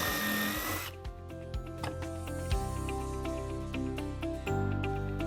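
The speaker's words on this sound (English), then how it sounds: "So you just drill your holes here and then move the jig up" A power drill whirs steadily, its pitch shifting as it bites into a wooden cabinet side while drilling shelf pin holes through a jig, with short pauses and restarts between holes.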